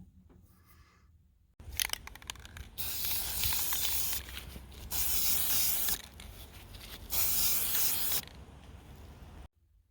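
A spray can puts a coat onto candle holders in three long, loud hissing bursts separated by short pauses, with quieter rattling and handling noise in between.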